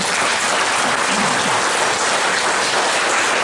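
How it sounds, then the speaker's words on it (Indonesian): Applause for choir groups at a Sunday Catholic Mass, a loud, dense and continuous roar of many hands clapping together with no break, filling the church evenly throughout. "tepuk tangan untuk mereka semua"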